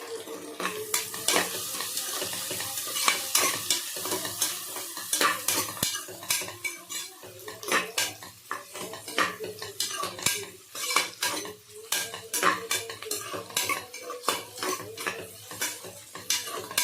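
Vegetables with carrot pieces being stir-fried in a pan, a utensil scraping and clanking against the metal in a steady rhythm of close, busy strokes over a soft sizzle.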